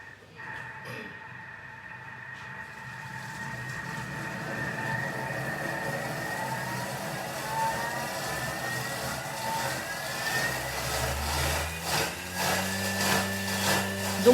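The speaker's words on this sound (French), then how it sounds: "je vais mixer 15 secondes sur la vitesse 8" A Thermomix runs at speed 8 for about fifteen seconds while blending a compote. Its motor whine builds steadily and grows louder and rougher toward the end, with no voices over it.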